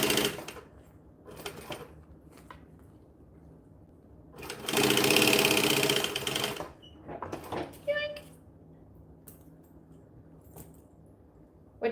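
A sewing machine bastes fabric for a troll costume in short whirring runs, one longer steady stretch in the middle, with quiet handling noises and soft speech between stitches.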